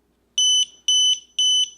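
A Grohe Sense water leak sensor chirps after being reset, three evenly spaced high electronic double beeps, clear and close in a quiet room.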